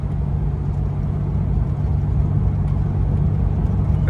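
A custom Studebaker roadster's flathead six runs steadily at a low, even idle-to-cruise rumble, close and constant throughout with no talk over it.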